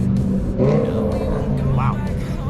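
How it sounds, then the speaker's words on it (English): A classic Toyota Supra's engine revs at a car meet, the tuned motor rising and settling in short bursts under excited nearby voices. "Look at the engine on this thing."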